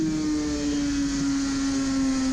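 A Suzuki RG500 racing motorcycle engine revving just over 11,000 rpm holds a loud, steady drone with a slowly falling pitch, continuous and close throughout.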